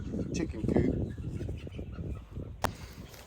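Backyard chickens in a semi-enclosed coop cluck and squawk in bursts at moderate distance, one brief louder call near the end, with someone talking over them throughout.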